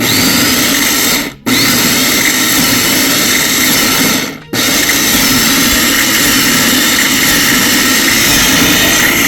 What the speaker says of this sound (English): I have 1 egg, and I have a whole head of roasted garlic. And I am just going to pulse it till it's creamy.